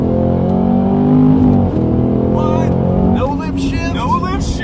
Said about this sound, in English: That's the first no lift shift I've done, by the way, in this car.